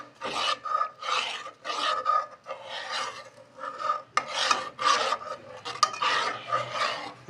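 A spoon scrapes and stirs green masala eggs in a karahi, a steady run of short rasping strokes against the metal pan. The scraping repeats in an even back-and-forth rhythm, close and clear, with no talk.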